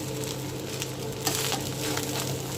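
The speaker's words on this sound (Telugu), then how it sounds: "ఇప్పుడు మంట కూడా ఇలా మీడియం హై ఫ్లేమ్లోనే ఉంచేసి ఇదంతా శుభ్రంగా ఒకసారి కలిపేసుకోవాలి" Chicken fried rice sizzles in a pan on a medium-high flame while being stirred. The hiss stays steady and close, with brief scraping bursts from the stirring and no talk.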